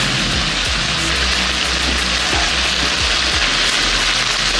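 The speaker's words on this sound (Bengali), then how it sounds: "আমার মাছের তেলটা ভাজা হয়ে গেছে।" Fish oil frying in a pan, a loud continuous crackling sizzle with dense spattering pops throughout, near and unbroken, with no voices.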